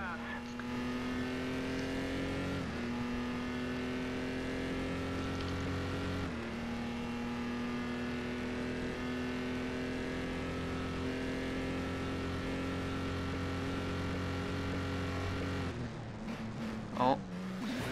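A race car engine in the racing game Grid holds a loud, steady high-pitched drone with a few brief dips as it brakes into turns, then revs and shifts near the end; a voice talks over it throughout.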